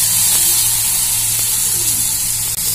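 Chopped tomatoes sauté in a hot pan with onions for mutton kulambu, giving a steady, close hiss and sizzle that holds evenly throughout with only a brief dip near the end.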